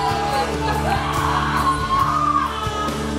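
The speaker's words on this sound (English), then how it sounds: "Why is she shouting like that?" Someone shouts loudly in praise during a Christian worship service, her voice ringing out over a dense, continuous wash of music and congregation noise with a few sharp accents.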